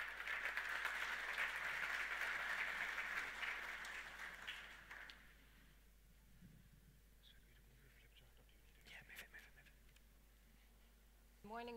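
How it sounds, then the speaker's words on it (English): Business summit audience applauding as a speaker is welcomed onstage, a broad clapping wash for about five seconds that fades out, followed by a quiet room with faint scattered noises. "A massive round of applause"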